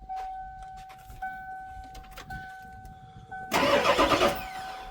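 A car door chime dings steadily, then an engine cranks loudly with a rough, rapid chugging burst for about a second.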